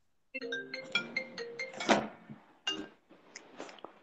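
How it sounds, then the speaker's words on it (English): Phone ringtone playing a bright, chiming melody of quick tonal notes in a quiet room, with a clinking accent midway and a few more ringing notes after a brief gap. "I thought that was my phone for a second."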